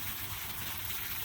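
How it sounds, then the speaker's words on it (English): Steady broadband rushing of a waterfall, faint and distant, a continuous hiss with a low rumble and no voices. "It's the sound of water"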